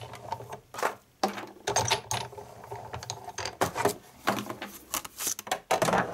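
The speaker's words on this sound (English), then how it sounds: "Cracking noise that you hear is perfectly normal." A Big Shot die-cutting machine presses paper through with a stitched flower die, giving a series of loud, irregular cracks and clunky mechanical crunches in bursts, close up, with no talking.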